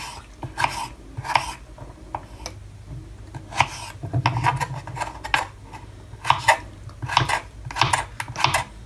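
Cucumber rasped against a grater for a Persian yogurt dip makes rhythmic scraping strokes in uneven bursts, close and moderately loud, with no talking.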